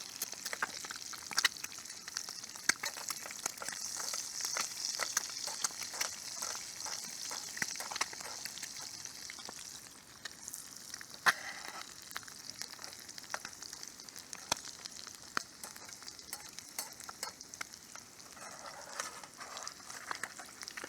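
Food frying in bacon grease in a camp skillet outdoors, a steady, faint crackling sizzle with scattered sharp pops throughout, continuous and without talk.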